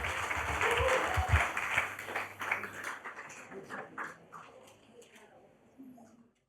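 An audience at a seminar on gender equity in mining claps for the panelists, a burst of applause that swells early and then thins into scattered claps and fades out, with a voice speaking over it.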